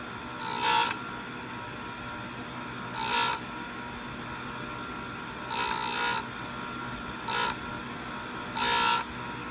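An Oregon 520-120 chain sharpener grinding chainsaw teeth in five brief, light touches spaced a couple of seconds apart, each a short, bright grinding rasp over a steady motor hum.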